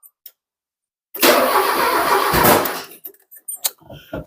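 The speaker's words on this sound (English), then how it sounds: "seems to be backfiring through the intake" A junkyard Porsche engine cranks and catches in a loud, rough burst lasting about two seconds, backfiring through the intake, followed by a few short sharp pops and clanks as it dies.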